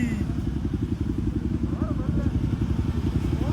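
Superbike motorcycle engine running steadily and loud at close range, a continuous throbbing drone throughout, with people talking over it and a brief rising whine partway through.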